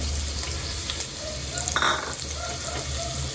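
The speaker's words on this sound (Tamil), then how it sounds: "எண்ணெய் சூடாகிட்டு நம்ம இப்போ வெங்காயத்தை சேர்த்துக்கலாம்." Sliced onions hit hot oil in a pan for a sardine fry, giving a steady close sizzle with scattered crackles and one brief louder spitting burst midway, and no talking.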